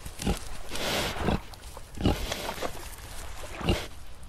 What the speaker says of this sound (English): That is a pig.